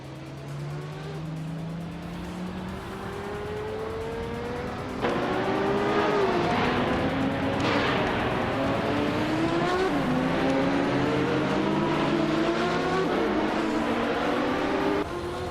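Race cars in a racing video game roar continuously, with engines rising and falling in pitch as they accelerate and pass, and tires squealing intermittently. The engine noise gets louder about a third of the way in.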